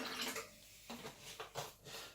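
Water poured into a Silver Crest 600W blender jug holding egg whites for a protein shake, heard as a few short, close splashing bursts separated by brief pauses.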